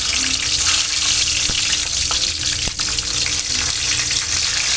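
Lemons crackle and splutter in hot oil in a pan while a lime pickle with dates and garlic is cooked, a steady close, dense sizzle and hiss throughout with a couple of sharper pops.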